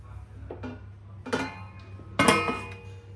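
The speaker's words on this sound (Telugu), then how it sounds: "ఇప్పుడు మూత పెట్టేద్దాం" A lid set down on a cooking pot of prawn pulao in a home kitchen, giving two clattering metallic clinks of moderate loudness over a steady low hum.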